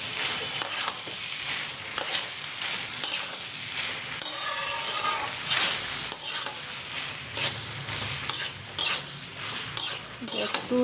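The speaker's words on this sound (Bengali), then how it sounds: "দিয়ে এবার মশলাটা দিয়ে এটা একটু কষিয়ে নেব" Spices for ghugni, a spiced dried-pea curry, stirred and sautéed in a pan, with a steady sizzle broken by repeated scraping strokes of a spoon against the metal, close up and fairly loud.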